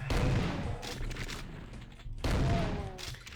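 Chaingunner enemies in a first-person shooter game fire dense, rapid bursts of gunfire, two loud rattling volleys separated by a brief lull, heard up close with no talk over them.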